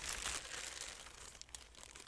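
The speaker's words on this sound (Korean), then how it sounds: "유니버셜 스튜디오라고 적혀있는 비닐 봉지백 안에 뭐가 들어있는데" A plastic bag printed with Universal Studios is crinkled and opened while unboxing a gift, giving a close, continuous papery rustle and crackle with no talking.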